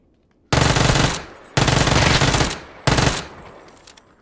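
Three long bursts of rapid automatic gunfire in a PUBG squad match, loud and close, each burst lasting around a second with short gaps between, no talk over them.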